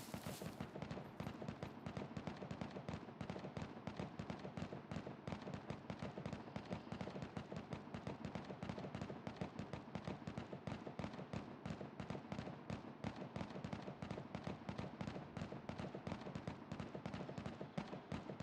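Gunfire in the survival game SCUM rattles steadily and rapidly for the whole stretch, a quiet, unbroken stream of crackling shots.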